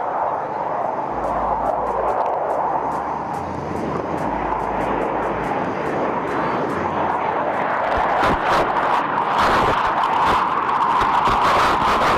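A fighter jet makes a slow low pass at the Aero India 2021 air show, its engine a continuous loud roar that swells toward the end. Crowd noise and wind rush sit beneath it.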